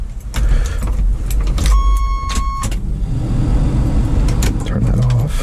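A 1987 Chevy S10 pickup with a 2.8L engine cranks and starts, then idles with a steady low rumble up close, with a brief electronic chime and someone speaking over it.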